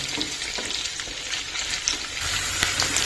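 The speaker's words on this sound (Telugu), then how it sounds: "ఆనియన్స్ ఫ్రై అవుతున్నాయి కదండి" Sliced onions sizzle and fry steadily in a pan for a village-style fish curry. A close, continuous crackle runs the whole time with occasional stirring noises and no talking.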